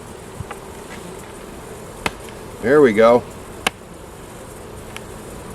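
Honeybees hum in a steady, fairly quiet drone around an open hive during a November inspection, with a few sharp knocks and a short spoken remark partway through.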